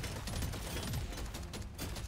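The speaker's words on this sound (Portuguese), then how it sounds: "os tiros nestes inimigos funcionam" Dense, continuous gunfire from the video game Deep Rock Galactic Survivor, a steady rattle of rapid overlapping shots that fills the whole stretch at an even level.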